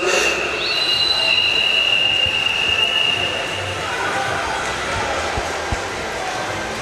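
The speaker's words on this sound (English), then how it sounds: "you can hear the whistles going off instead of the bells in pool 2" At a national winter championship swimming meet, long high-pitched whistles blow in the second pool, shrill and steady over the echoing crowd noise of the indoor venue.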